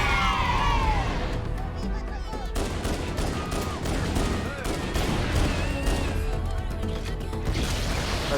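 Grenade explosions and rapid gunfire in the video game Halo, a continuous stream of crackling shots and bursts under a player speaking French.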